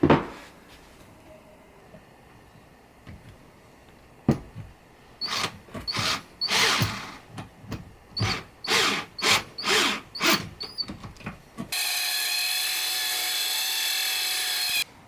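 Pocket-hole screws are driven into plywood with a power driver in a series of short whirring bursts, each one rising and stopping, followed by a steady brighter mechanical whine near the end.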